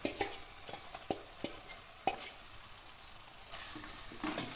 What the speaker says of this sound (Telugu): ఇంతసేపటి దాకా మనం మ్యారినేట్ చేసుకున్న చికెన్ అయితే ఇందులో వేసుకుందామండి